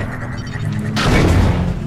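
A gunshot in the video game Half-Life 2 Episode 1, a single loud booming blast that lands about midway and rumbles out, following a steady background drone.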